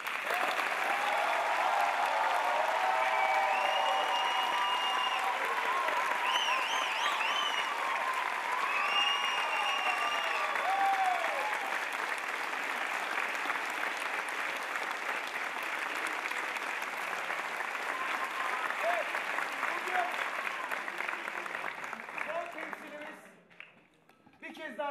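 A theatre audience applauds at the end of a performance, sustained dense clapping holding steady for over twenty seconds before fading out, with a voice and music heard beneath it.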